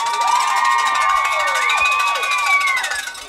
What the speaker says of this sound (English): This North County crowd is up and at it this evening on senior night out.